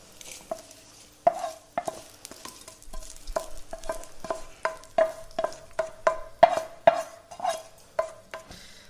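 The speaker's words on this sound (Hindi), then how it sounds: "इसको भी हम 10 से 15 सेकंड भून लेंगे" Whole red chillies and lentils dry roasting in a pan, with a spoon or spatula stirring and scraping against the metal in steady, close strokes and a faint crackle in between.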